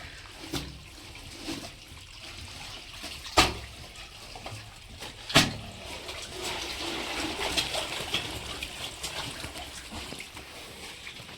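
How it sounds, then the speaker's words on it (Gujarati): Water gushing strongly from a 22-foot farm well rushes and splashes continuously nearby, broken by a couple of sharp knocks. "આ પાણી જોરદાર આવે"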